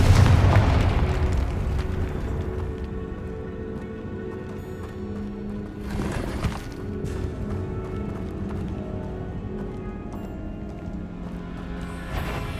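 A Confringo fire spell blasts in the video game Hogwarts Legacy. A loud booming burst opens, followed by a rumbling game soundscape, with another sharp blast near the middle.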